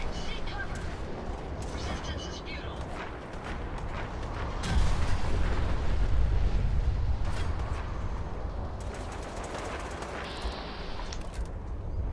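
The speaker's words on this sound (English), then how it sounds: "Damn, somebody is popping off shots over here." Gunfire in a post-apocalyptic wasteland survival game: scattered sharp shots popping at irregular intervals over an ongoing rumbling battle backdrop, with a heavier booming stretch midway.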